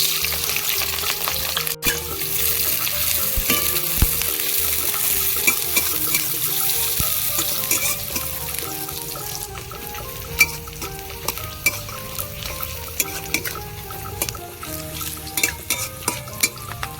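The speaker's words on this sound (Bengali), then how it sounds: "পেঁয়াজ আমি ভালো করে লাল লাল করে ভেজে নিয়েছি" Onions and chilies fry in hot oil in a pan for a fish curry, a steady loud sizzle with stirring scrapes running throughout, no talking.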